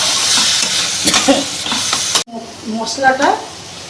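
Spices sizzle in oil in a pan while being stirred with a little added water for a spicy coconut chicken curry. Loud frying and scraping fill the first part, then the sizzle drops and continues more softly with stirring.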